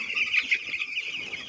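Nine-day-old broiler chicks in a rearing shed peep and cluck continuously as a dense, high-pitched chorus, steady and unbroken, with no voices over it.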